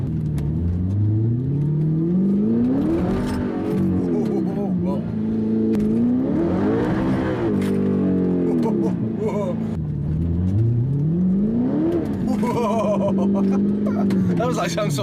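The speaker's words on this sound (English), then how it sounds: "That was like some sort of slow motion power slide." An Audi R8 with traction control off slides on cold tarmac on cold tyres, its engine revving and swelling in repeated rises and falls as it power slides, steady and close throughout.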